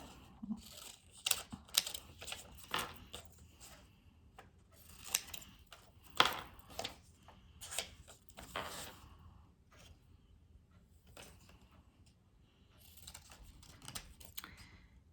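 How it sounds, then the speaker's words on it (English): Scissors snipping paper pictures apart in a classroom lesson, a run of short, sharp cutting clicks that come in small bursts with brief pauses, fairly close and moderately quiet, no talking. "we're going to cut these out"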